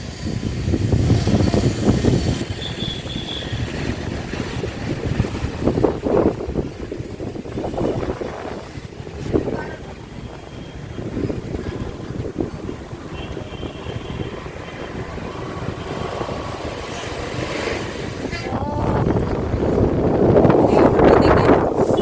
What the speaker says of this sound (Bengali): কি সুন্দর ফুরফুরে হাওয়া দিচ্ছে এখানে।